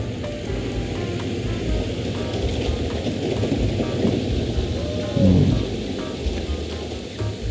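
Steady rain falls under overcast skies beside a road construction site, a dense continuous hiss with low rumbling underneath and a brief louder surge of thunder partway through.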